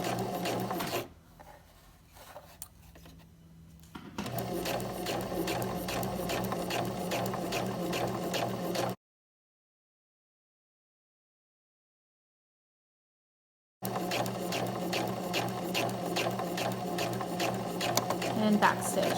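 A sewing machine back stitches a fly zipper, running in steady bursts of rapid mechanical stitching with a quiet pause partway through and a silent gap in the middle, while a person talks over parts of it.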